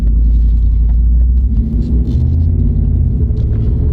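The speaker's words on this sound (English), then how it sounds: "it'll get even louder now because you got the four-wheel drive system rolling along" Ram truck rolling along in four-wheel drive, a steady loud low rumble of engine and drivetrain with road noise, continuous throughout with no voices.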